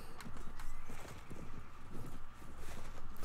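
Quick, steady hoofbeats of a galloping horse in the video game Mount & Blade (Floris mod) over a busy background rumble, with no talking.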